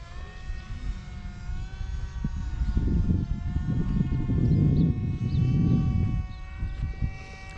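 Light aircraft at an airfield making a low pass, its engine drone building to a loud, broad roar through the middle and fading again, with steady tonal whine throughout.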